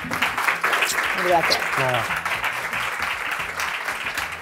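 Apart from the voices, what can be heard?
studio audience applause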